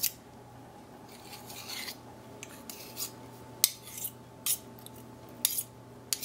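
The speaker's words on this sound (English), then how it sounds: "And now just take a fork, scrape off the spoon." A fork scraping sticky challah dough off a metal spoon makes a series of short, close scrapes and taps at an uneven rhythm, heard alone over a quiet room hum.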